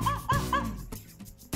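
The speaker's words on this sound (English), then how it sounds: "Oh, what a cute little puppy." A small puppy gives three quick high yips close up, followed by softer snuffling and faint movement in the quiet that follows.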